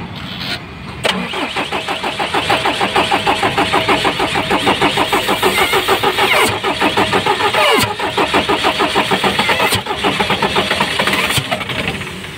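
A JAC vehicle's starter cranks on and on with a rapid rhythmic churning, close and loud, broken by brief pauses without the engine catching.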